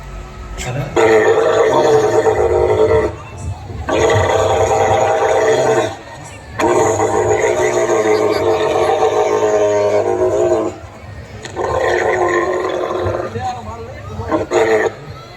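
A person imitates a camel's call with long, guttural groaning roars in several bursts, while a crowd murmurs and reacts in the background.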